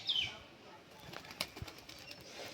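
A sand-coloured female pigeon flies low over a rooftop in bright sun, giving a few soft, brief wing flaps that stay faint against quiet outdoor background noise.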